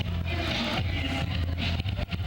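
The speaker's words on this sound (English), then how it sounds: "It's a great big truck with a whole bunch of partying people." A big parade truck loaded with partying people rumbles past in a 1989 small-town Pioneer Days parade, a loud, steady low engine drone mixed with crowd noise and cheering that fills the whole stretch.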